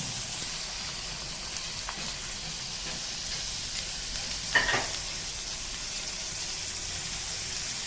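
Fenugreek leaves dropped into a hot pan of onion and chilli, giving a steady low sizzle with a brief louder burst of frying partway through, no talking.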